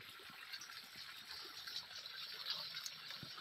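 Irrigation water pours into a sugarcane field in a continuous rushing gush that stays even and moderately close throughout, with no voices.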